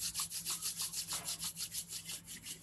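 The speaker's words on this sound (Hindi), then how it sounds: "दोनों हाथों को रब करेंगे" Two palms rubbed briskly together during a guided meditation, a steady rhythmic swishing repeated about every fifth of a second, close and alone with no talk.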